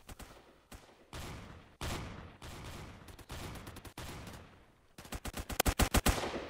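A shooter video game gun fires in short, sharp bursts separated by brief pauses, then ends in a rapid, louder volley of closely spaced shots.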